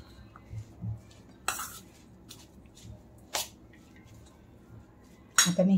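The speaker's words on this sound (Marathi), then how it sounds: "याला चांगलं मिक्स करून घेऊया." A spoon clinks and scrapes against a bowl while stirring paneer and pea paratha filling, a few sharp taps standing out over quiet mushy mixing, with no talk.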